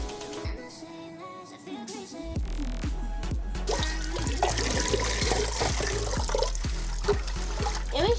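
Tap water runs and splashes steadily over crab being washed in a kitchen before cooking a crab curry, the flow growing louder and fuller after a couple of seconds, with faint background noise.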